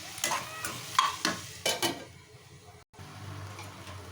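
Tomato pieces cooking in a pan for a plantain curry, with soft intermittent stirring scrapes and a faint steady sizzle at close range, no talk.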